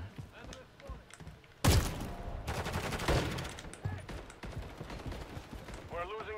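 Gunfire in a Call of Duty match on the Stash House map, with a sudden loud volley of rapid automatic shots followed by continuing bursts while players talk over it.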